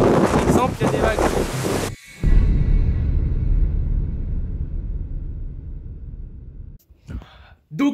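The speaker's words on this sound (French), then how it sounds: "il y a des vagues" Sea waves break against a breakwater in wind: after a burst of talk, a heavy rushing surge of water roars loudly for several seconds, then cuts off, with wind buffeting the microphone and brief voices returning.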